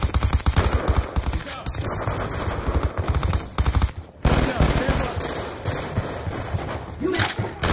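Rapid automatic gunfire in Call of Duty: Black Ops 2, loud dense bursts running almost throughout with a brief pause midway, game voice lines mixed underneath.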